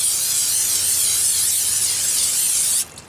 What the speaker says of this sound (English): I'm going to spray it down with some of this olive oil cooking spray